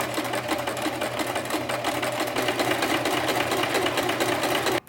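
A sewing machine stitches a buttonhole with a fast, steady mechanical whir and rhythmic needle chatter, close and continuous for several seconds before stopping abruptly.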